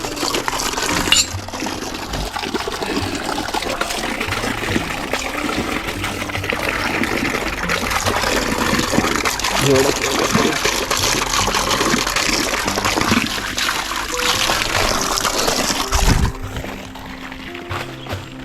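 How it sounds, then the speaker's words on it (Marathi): Overflowing water from a tank gushes steadily, loud and close, for most of the clip, then cuts off abruptly near the end. "पाणी ओव्हरफ्लो झालेलं आहे"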